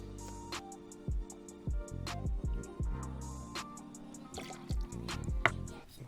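Blanco tequila pours from a bottle for a Long Island Iced Tea, a close, quiet run of glugs, drips and small splashes with gurgling pulses, alone without talk.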